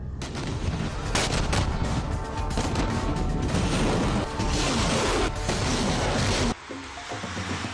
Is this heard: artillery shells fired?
yes